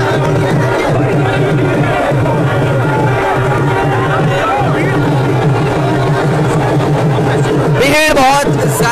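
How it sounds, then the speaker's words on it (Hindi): Large crowd gathered outside Jammu airport, a steady loud hubbub of many voices with cheering and traffic noise, a sharp burst of shouting near the end, under a reporter's talk. "भीड़ बहुत ज्यादा है"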